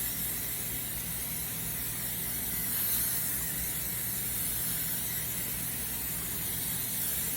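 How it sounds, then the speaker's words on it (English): Cooking spray hissing steadily onto a whole chicken coated in Cool Ranch Doritos, a continuous close aerosol spray held for several seconds without pause. "we're gonna spray it generously"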